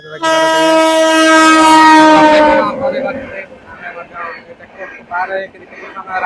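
A train sounds a loud, sustained horn blast near a road checkpoint on the way to a temple in Jajpur, then fades as voices talk over the rumble.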